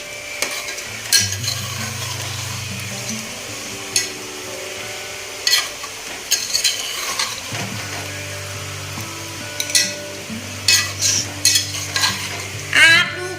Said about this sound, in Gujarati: આ નાખી દઉં અંદર. હવે ધીમે ધીમે મિક્સ કરી દઈએ.